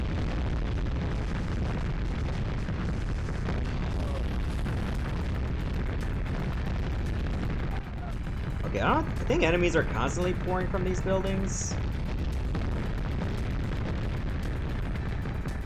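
Dense, loud explosions and gunfire rumble throughout a battle in the PS1 tank game Mass Destruction, with someone talking over the blasts partway through.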